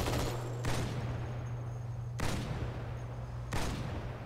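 Heavy automatic turret gunfire in the game Halo 2: Anniversary, a steady loud stream of shots with three sharp bursts punctuating it, close and continuous with no talking.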